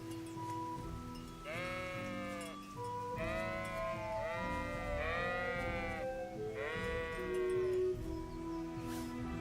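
Sheep bleat repeatedly in the Kingdom Come: Deliverance video game, several wavering calls in a row, fairly close, over a steady background hum with faint rain-like noise.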